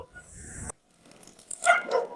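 Dogs bark in a couple of short, sharp bursts near the end, following a brief rustle and a pause of near silence; the dogs are a Rottweiler and a Doberman at home.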